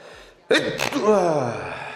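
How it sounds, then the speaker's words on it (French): A single sharp sneeze bursts out close to the microphone, a quick intake of breath followed by a loud, explosive exhale. "Pardon, un petit éternuement."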